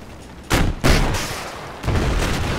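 Gunfire strikes a vehicle in the video game Battlefield 4, with loud close bursts of shots and impacts in three clusters separated by short gaps.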